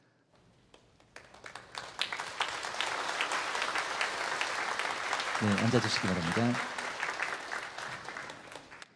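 Church congregation standing to applaud a returning short-term mission team during a Sunday worship service, broad sustained clapping filling the room, with a voice speaking over it near the end.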